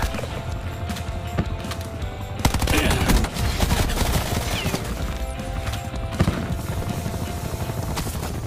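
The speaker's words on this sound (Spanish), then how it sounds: "Helicóptero de ataque enemigo encima." In a Call of Duty Black Ops 4 multiplayer match, an enemy attack helicopter's thudding rotor drones under dense, continuous bursts of machine-gun fire and explosions, loud and busy throughout.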